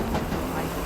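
Train rumble with a low steady hum and faint rhythmic rolling in the Roblox game Jailbreak, continuous and fairly close through a short stretch, with no talk.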